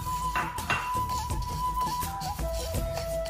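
Parippu lentils being stirred nonstop as they fry in a pan for Kerala parippu pradhaman: a metal spoon scrapes and clinks against the pan in quick, uneven strokes, close by, with a steady tone humming underneath.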